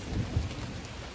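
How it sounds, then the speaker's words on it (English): Thunder rumbles low and heavy during a rainstorm, a continuous deep roll mixed with steady rain hiss, close and fairly loud with no voices. "I'll let the thunder pass"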